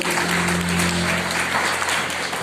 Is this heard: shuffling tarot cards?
no